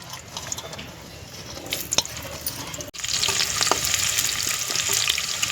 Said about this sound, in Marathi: आपलं तेल व्यवस्थित गरम झाले, त्यामध्ये आपण जो उभा चिरलेला कांदा आहे तो टाकू।